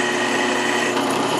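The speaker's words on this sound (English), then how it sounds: "This plate that I'm drilling is half inch thick." A power drill bores through a half-inch thick steel pritchel plate for blacksmithing, lubricated with cutting oil, giving a steady, loud, continuous high-pitched grinding whine throughout with no talk.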